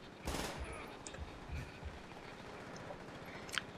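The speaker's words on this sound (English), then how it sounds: "PPSH is a really good gun. It fires so fast, but you burn through ammo on it." PPSh submachine gun firing in Call of Duty: World at War, an indoor level, with a burst of rapid shots early on, then scattered distant gunfire and clatter at low level.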